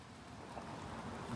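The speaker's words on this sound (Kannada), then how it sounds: "ಮಳೆ ಬರ್ತಾ ಇದೆ ಲೈಟ್ ಆಗಿ." Light rain falling outdoors along a forest road near Kuduremukha, a soft steady patter that holds evenly through the moment with no talking.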